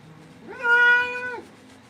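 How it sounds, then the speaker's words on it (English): A ragdoll cat gives a single drawn-out, mournful meow, close and clear against a quiet room. "most ragdoll cats have a very mournful, unwet meow"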